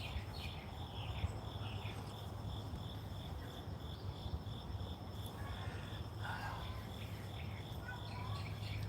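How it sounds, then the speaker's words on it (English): Outdoor morning ambience beside a house: birds chirp and twitter over a dense, continuous bed of insect and cricket buzzing, steady and moderately faint throughout with no speech. "You guys hear all those birds and everything going on?"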